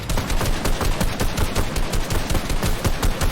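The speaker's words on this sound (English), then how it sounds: "There's people shooting from behind, I think." Rapid, dense gunfire from a three-man squad battle-royale video game, continuous bursts of shots layered throughout, loud and close with no pauses.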